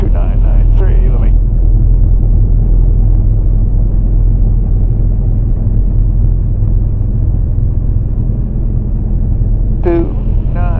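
A light aircraft's engine drones steadily and loudly while taxiing, a constant close rumble lasting throughout, with brief radio or cockpit voice bursts at the start and end.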